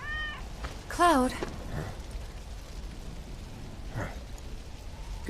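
A cat in the video game Final Fantasy 7 Remake gives one clear, rising-and-falling meow, fairly close, over a quiet ambient game background with faint voices.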